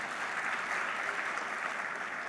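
Audience applause at an Indonesian institutional report event honoring students admitted to universities, a steady, even wash of clapping throughout with no talk over it.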